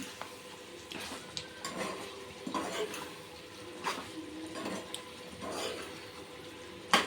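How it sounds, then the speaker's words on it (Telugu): Chicken masala curry being stirred in a pan, giving soft repeated scraping and gentle sizzling strokes at a steady rhythm, close but fairly quiet, with no talking. "ఇట్లా మంచిగా కలుపుదాము"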